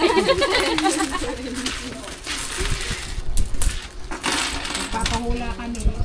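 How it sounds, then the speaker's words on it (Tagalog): Coins dropping and clinking together repeatedly in a series of bright metallic jingles, with people talking in the background. "Marami na tayong barya!"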